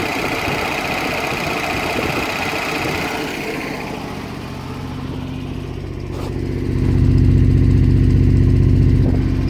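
A 1972 Range Rover engine idles close by with its hydraulic tappets ticking noisily, a steady mechanical clatter that deepens and grows louder toward the end, with no speech.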